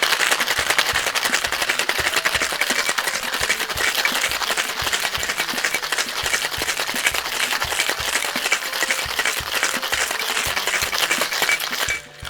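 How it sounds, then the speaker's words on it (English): Ice rattling hard inside a sealed cocktail shaker for a smoky cocktail, a dense, fast, steady clatter that runs loud and unbroken for about twelve seconds before stopping abruptly. "We're gonna seal that bad boy up and shaking for 12 seconds"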